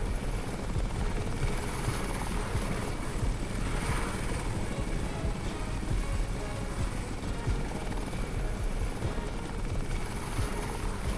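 Helicopter in the Crysis video game, a steady loud rotor drone with continuous chopping throb that holds unbroken for the whole stretch, no voices over it.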